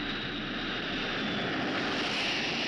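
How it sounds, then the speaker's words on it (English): Big planes roar overhead in a Twilight Zone episode, a dense, steady engine drone that holds at an even loudness throughout with no voices. "Some big planes."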